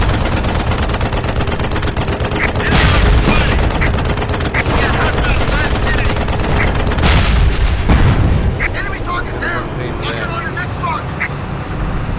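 Video game gunfire from Frontlines: Fuel of War rattles in dense, continuous machine-gun bursts with heavier booms mixed in, loud throughout, while players talk over it.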